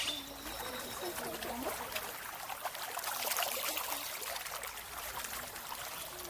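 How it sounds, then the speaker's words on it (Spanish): Streams and canals flow through Chapultepec forest with a steady, close rush of water, while birds chirp and call over it throughout. "es bonito ver al bosque con canales, arroyos, espejos de agua"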